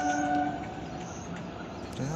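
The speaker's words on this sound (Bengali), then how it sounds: "ওই যে ট্রেন যাচ্ছে" A train rumbles past at a distance beyond rural gardens, a faint, steady rolling noise with a few light bird calls over it.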